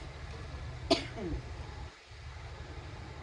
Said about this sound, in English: The vinegar will make you cough.